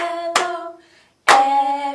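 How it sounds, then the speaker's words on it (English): Two sharp hand claps from a children's storytime sing-along, spaced about a second apart, each ringing briefly before fading, heard close and alone. "Everybody clap hello, clap hello,"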